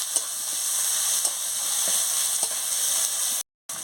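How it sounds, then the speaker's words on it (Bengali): Ginger and garlic paste frying in hot oil, a loud continuous sizzle and hiss close by with faint crackles, cutting out briefly near the end before resuming. "এবার আদা বাটা রসুন বাটা দিয়ে দিচ্ছি।"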